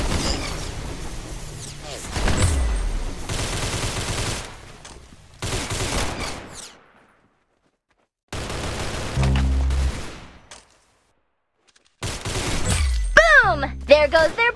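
Gunfire in the Roblox game Arsenal, several loud bursts of shots separated by silent gaps, with a voice talking over parts of it.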